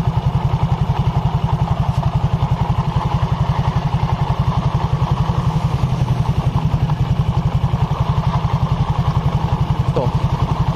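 A Honda Vario 150 scooter engine running with a rough noise near the secondary pulley makes a loud, close, rapid and evenly pulsing mechanical clatter that holds steady throughout.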